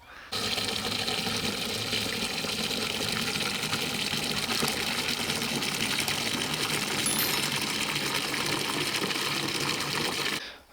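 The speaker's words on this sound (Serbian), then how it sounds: "Zatim se to napuni vodom i dobro promuti" Water rushes steadily into a garden sprayer being filled for spraying tomato plants with a water and milk mix. A continuous close gushing and sloshing runs for about ten seconds, then cuts off abruptly.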